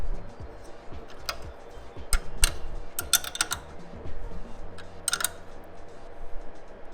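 Wrenches working a bolt and nut while tightening a motorcycle mid-peg mount: scattered sharp metallic clicks and ratcheting ticks in irregular bursts, close and fairly quiet over a faint low background hum.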